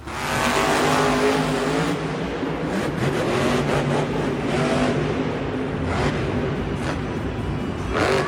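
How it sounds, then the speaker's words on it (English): A Monster Jam monster truck engine roars as the driver feathers the throttle, revving and easing in uneven surges from a distance with crowd and arena noise around it. "The first clip, you could hear him feathering the throttle"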